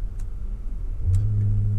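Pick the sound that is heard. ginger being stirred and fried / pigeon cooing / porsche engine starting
porsche engine starting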